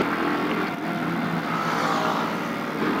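A Yamaha R15 V3 motorcycle being ridden, its engine a steady close roar with rushing wind noise, holding even throughout without speech.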